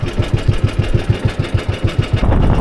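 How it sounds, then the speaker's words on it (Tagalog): A small fishing boat's engine sputters and chugs in an uneven, pulsing rhythm, close and fairly loud, as it struggles and fails to catch and run. "ayaw umandar yung bangka"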